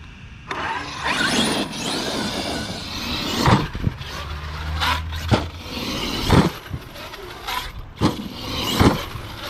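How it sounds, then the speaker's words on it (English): An Arrma Kraton 8S RC truck with a Castle Mamba Monster X 8S system, 800kv motor and 43-tooth pinion creeps along at slow speed, its motor whining and drivetrain clattering, with repeated sharp surges and bumps through steady mechanical noise. "what it's like to drive this truck at a slow speed"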